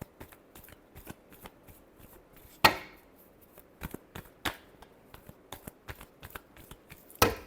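Tarot cards being shuffled by hand, a series of crisp close riffles and slaps in irregular bursts, with a few louder snaps standing out.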